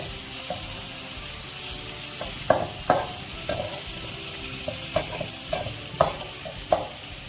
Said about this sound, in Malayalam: ഇതിലോട്ട് നമുക്ക് മാരിനേറ്റ് ചെയ്ത ചിക്കനെ ഫ്രൈ ചെയ്തെടുക്കാം